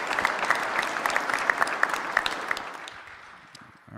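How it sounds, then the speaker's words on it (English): An audience applauds at a City of Columbus veterans employee appreciation event, a steady round of clapping that carries on evenly before fading toward the end. "please give another round of applause."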